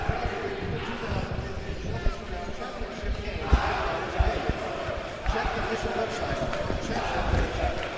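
A crowd of basketball fans cheering on the Chaminade Red Devils during halftime of a varsity game against SLUH at Mizzou, with steady loud noise and scattered thumps under a commentator's speech.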